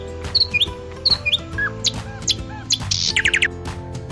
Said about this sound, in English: Sparrow, sparrow.